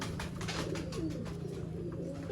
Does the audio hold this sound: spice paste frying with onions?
no